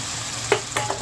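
Chicken pieces and fried potatoes frying slowly in a pan while being stirred: a continuous sizzle with a few quick scraping strokes from the stirring, close up and with no voices.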